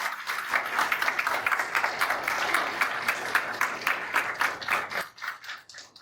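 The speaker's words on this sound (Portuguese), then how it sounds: "eu quero pedir uma salva de palmas para eles" A crowd applauds steadily for several seconds, the clapping dense and even before it thins out and fades at the end.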